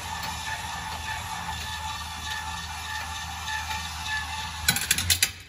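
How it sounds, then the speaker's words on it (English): Electric stabilizer jack motors on a 2022 Heartland Pioneer 210RD travel trailer winding up: a steady mechanical whir with a low hum, ending in a short burst of sharp clicks and ratcheting near the end. "So you heard those motors wind up"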